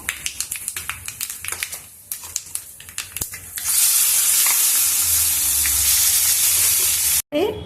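Peanuts and urad dal sizzling in hot oil for spinach chutney, with a run of taps and stirring clatter first, then a loud steady fry hiss filling the rest, no voices.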